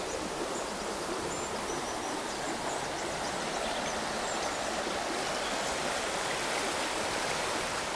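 River stream on La Petite Creuse flowing steadily, a dense continuous rushing and bubbling of water, close and even throughout with no voices.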